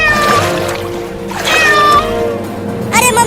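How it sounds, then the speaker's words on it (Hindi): Cartoon cat meowing as it drowns in floodwater, a few loud drawn-out meows in a row with water sounds underneath. "वहाँ देखो, एक बिल्ली पानी में डूब रही है।"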